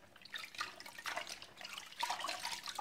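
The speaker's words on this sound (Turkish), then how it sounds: "Ispanakları soğuk su içine koyup" Spinach for japchae going into a bowl of cold water, giving soft splashing and trickling bursts with small drips, fairly quiet and close, in uneven waves.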